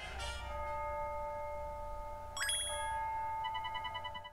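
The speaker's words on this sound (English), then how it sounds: "I'm glad that sound was just like an alarm bell, because it sounded very, very ominous" Alarm-like bell chime from the video game Inazuma Eleven 3: a bright ringing bell tone with sustained ringing overtones, struck again midway with a sharp metallic jangle, over a low background hum.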